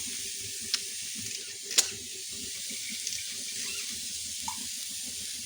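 Water is poured into a fish curry with masala in a pan, giving a steady soft hiss of running water and simmering with a few faint clinks, fairly quiet throughout.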